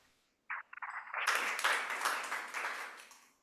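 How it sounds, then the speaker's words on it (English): An audience breaks into a round of applause at an innovation challenge event, steady clapping swelling after a brief start and holding at a strong level before tapering off. "round of applause"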